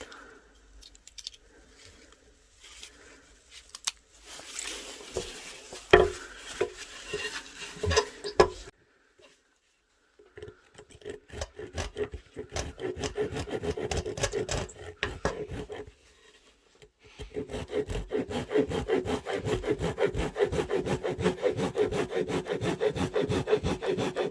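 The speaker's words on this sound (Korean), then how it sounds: "스피드 우드 그러니까 나무를 빨리 자르는 용도 네, 이걸로 한번 다시 해보겠습니다" A Leatherman Surge multitool fitted with a long jigsaw-style speed wood blade saws through wood in rapid rasping strokes that stop briefly partway through, then resume with a steady, rhythmic back-and-forth cutting.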